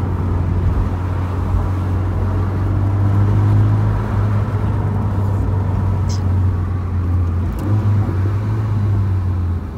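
A car with very stiff suspension rolls over a bumpy, pitted road, giving a steady loud low engine and road rumble that stays constant throughout, without voices.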